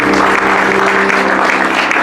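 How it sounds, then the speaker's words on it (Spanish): A church congregation gives loud applause after the pastor's call during a worship service, a dense, sustained roar of clapping that stays even and strong throughout, close and without talk. "Den un fuerte aplauso, mi amado."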